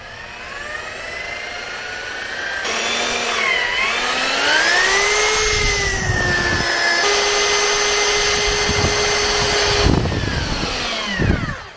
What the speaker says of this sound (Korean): 가루 교반 해줄 때 팁이 수직으로 이제 넣어서 교반기를 쓰시는 거고요